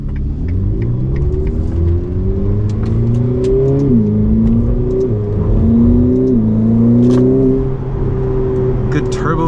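A Ferrari F8 Tributo's twin-turbo engine pulling hard from inside the cabin, a rising, shifting drone with turbo whir climbing through the gears, with someone talking over it.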